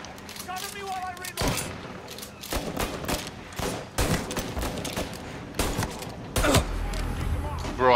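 Gunfire in the Mafia video game: rapid bursts of close, loud shots in a firefight with sharp repeated cracks throughout, while a player talks over the shooting.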